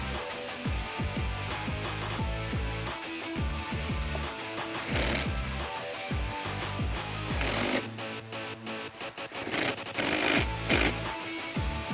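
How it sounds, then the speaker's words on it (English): Clamps are tightened on the cold air intake tube of a 2015-2017 Mustang GT, heard as a rapid, repeated ratcheting or power-driver chatter in bursts, close and fairly loud throughout. "We're just gonna slide it into the couplers and tighten the clamps down."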